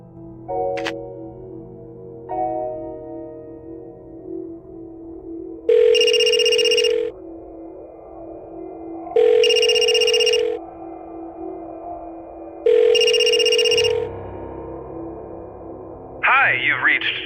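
A telephone rings three times in the point-and-click adventure game Blackwell Deception, each electronic ring a bright, steady tone of about a second, spaced evenly over a low ambient hum, with a short chirping sound at the end.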